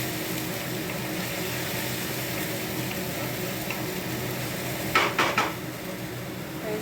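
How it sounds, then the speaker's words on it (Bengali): Dry spice paste frying in a pan for a fish and egg curry after a splash of water is added, giving a steady close sizzle with a brief burst of louder crackling and clatter near the end. "এর জন্য একটু জল না দিলে তাহলে মশলাটা ভাজা হবে না ঠিক মতো।"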